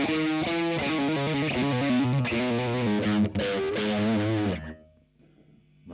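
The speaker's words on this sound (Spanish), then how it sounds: "Distorsión cero y gain boost a tope para ver," An electric guitar runs through a Boss MD-2 Mega Distortion pedal set to zero distortion with the gain boost fully up, giving a loud, gritty sustained riff of chords for about four seconds before it rings out and fades.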